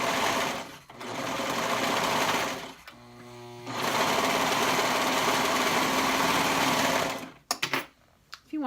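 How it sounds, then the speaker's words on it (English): A sewing machine runs in steady close bursts while stitching a garment side seam at half-inch allowance, pausing briefly mid-way and stopping near the end with a few clicks. "So we will just stitch that up."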